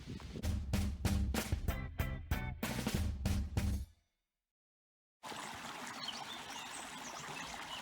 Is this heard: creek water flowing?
yes